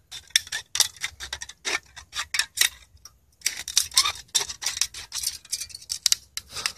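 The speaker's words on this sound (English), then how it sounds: "Okay, so I'm just going to cut this down" Scissors snipping through a thin aluminium drink can to shorten it for an alcohol stove: rapid, crisp metallic cuts in close, loud runs, with one short pause midway.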